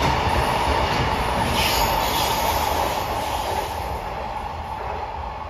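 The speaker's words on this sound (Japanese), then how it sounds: "丸亀駅13時49分通過、貨物列車大王製紙工場行き EF210 電気機関車です。" An EF210 electric locomotive hauling a freight train passes Marugame Station. A loud, steady rumble of rolling wagons and wheels on rails slowly eases off toward the end, with no voices.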